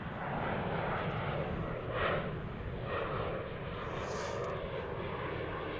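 A Boeing 737 jet climbs out into low clouds at Dallas Fort Worth International Airport on a low-visibility day, a steady broadband engine roar heard from a distance and holding at a fairly even level throughout.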